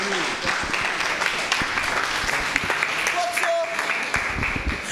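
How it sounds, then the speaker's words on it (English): Audience applause at the close of a book chat session with authors, steady dense clapping filling the room throughout, with a voice speaking over it. "Please give them a round of applause."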